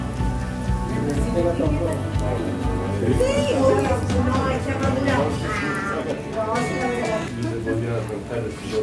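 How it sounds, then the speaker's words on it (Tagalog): Rain pours down outside a hillside cafe in Hong Kong on a foggy day, a steady hiss beneath close conversation and occasional children's voices. "it's raining today and foggy at the same time"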